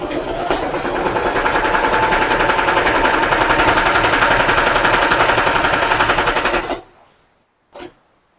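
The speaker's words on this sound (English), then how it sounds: "I did just sew that twice, just so that we know we have a good seam" A sewing machine stitches a seam through braided rug fabric, running in a steady, fast mechanical chatter for about seven seconds before stopping. One short click follows in the quiet.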